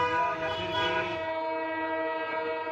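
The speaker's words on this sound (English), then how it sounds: "A train thunders through a station carrying oxygen trucks to Delhi." A train hauling oxygen trucks thunders through a station, a loud, steady rumble with a sustained horn-like harmonic tone over it, easing slightly after the first second.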